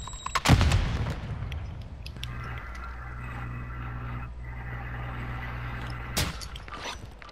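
Semtex grenade detonating in Call of Duty Warzone, a sharp, loud blast near the start with a booming low rumble, followed by a steady engine-like drone and another sharp crack near the end.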